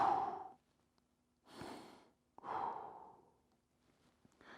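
Slow, deep breaths during a mobility stretch in a fitness class, three long airy exhales spaced about a second apart, close and fairly soft, with no talking over them.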